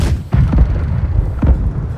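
Cannon fire striking a ship in the naval combat game Blackwake, a pair of heavy booming impacts roughly a second apart over a continuous low rumble, loud and close with no talking.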